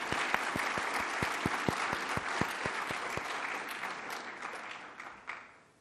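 An audience at an awards event claps steadily, a dense, even applause with distinct individual claps that fades out near the end.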